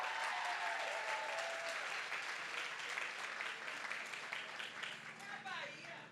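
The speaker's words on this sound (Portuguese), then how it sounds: "Palmas para o Lázaro." A book-fair audience applauds the actor Lázaro Ramos as he takes the stage, full sustained clapping from a large crowd that stays strong, with a few faint voices and a brief tone mixed under the hands.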